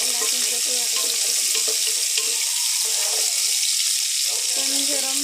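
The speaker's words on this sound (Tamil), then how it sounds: "தக்காளி, கடுகு, வெந்தயம், ஜீரகம், தக்காளி, வெங்காயம், பச்சை மிளகாய் எல்லாத்தையும் போட்டு வதக்கி" Tomato, mustard seeds, fenugreek, cumin, onion and green chilli sauté in a pan for a sardine curry, giving a continuous bright sizzle with occasional stirring while a person talks over it.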